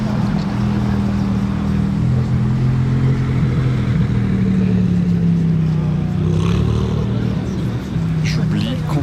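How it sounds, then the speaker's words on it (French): A yellow Maserati MC20 convertible drives by on a Paris street, its low engine rumble loud and steady amid traffic noise. A person talks over it throughout. "Oh la MC20 jaune cab, surprise sur surprise ce matin."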